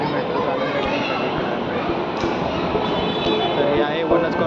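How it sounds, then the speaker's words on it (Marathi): A Pune Metro train rumbles into a station platform with a broad, steady roar and faint high whine, while people chatter nearby. "वनाज कॉर्नरची गाडी आलेली आहे"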